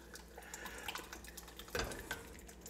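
Canned pinto beans pour from the can into a pan while smoked ribs are being catered, giving a wet, sloshing splash that peaks briefly near the end, fairly close and moderately loud.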